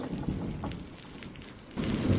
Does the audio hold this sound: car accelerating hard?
no